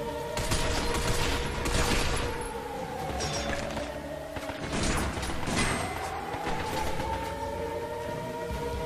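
Sustained gunfire against robots in the video game Binary Domain, dense loud bursts of shots with metallic clanks and crashes over a steady mechanical drone.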